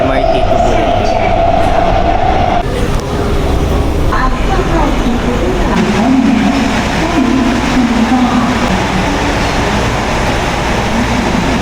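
Inside a Taiwan bullet train on the ride to Chiayi and Kaohsiung, a loud steady rumble and rushing roar fill the carriage, with a tonal whine early on and faint voices mixed in.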